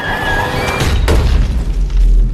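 Two grenades explode in a zombie film scene, a heavy booming blast with a rumbling tail that stays loud and sustained throughout, without any speech.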